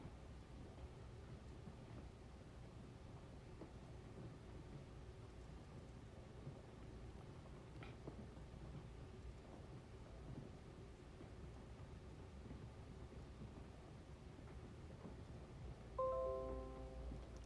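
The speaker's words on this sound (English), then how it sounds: "So if you hear anything sound like it's dripping or whatever, it's raining." Rain falls outside on a rainy day, heard from indoors as a faint, steady low rushing hiss with a distant rumble, continuous throughout and with no talking.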